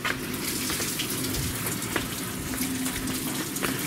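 Open faucets run continuously as air is purged from freshly plumbed copper water lines, a steady splashing rush with a few small spits and gurgles, no voices present.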